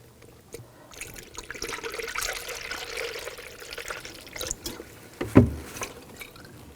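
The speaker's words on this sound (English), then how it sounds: "we should see some coolant start coming out of there" Coolant trickling out of a bleeder on a 2000–2006 BMW X5 3.0L inline-six, a faint close liquid dribble with scattered small drips and a brief louder splash near the end.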